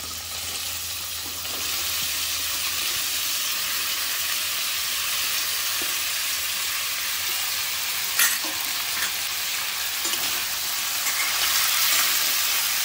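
Green chili sautéing in hot oil, with sweet potato for a fasting-style tempered dish, gives a steady close sizzle with stirring scrapes and a brief clatter partway through.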